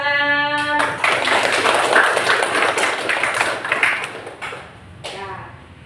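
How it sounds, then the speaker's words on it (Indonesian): A classroom bursts into applause, with dense clapping from many hands rising after a short tone and then fading out over several seconds. "Oke, tepuk tangan."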